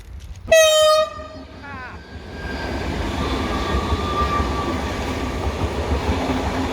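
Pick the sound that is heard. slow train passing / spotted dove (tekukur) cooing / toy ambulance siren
slow train passing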